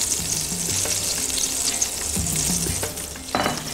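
Spices and oil sizzling in a pan as a cinnamon stick and bay leaf fry, a steady broadband hiss with occasional stirring clinks and scrapes, close and continuous with no talk.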